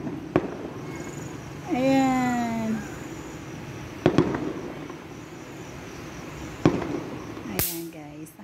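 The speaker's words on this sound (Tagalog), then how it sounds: "Kasi may fireworks doon." Festival fireworks over Lucena City, Quezon Province at night: several sharp booming bursts from the distance, one with a rising whistling tail, spread across the span while a person talks near a window.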